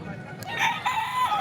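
A game rooster at a fighting-cock farm in Bocaue crows once, moderately close and fairly loud, with faint farmyard background and no talk.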